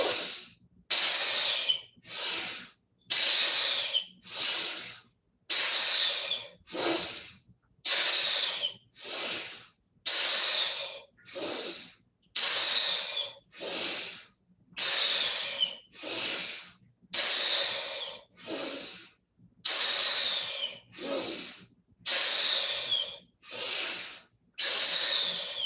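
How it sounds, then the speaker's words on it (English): A group breathing exercise in a beginner's breathwork class: forceful, airy exhales repeat in a steady rhythm, some long and some short and sharp, loud and close, with no talking. "Together we exhale."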